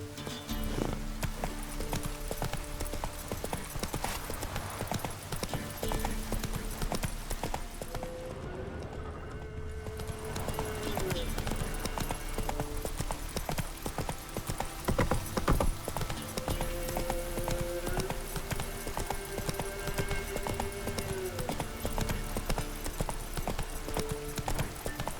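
Hoofbeats of Geralt's horse Roach from The Witcher 3 video game, a steady rhythmic clip-clop of galloping hooves running throughout at close range, with brief snorts and game ambience and little talk.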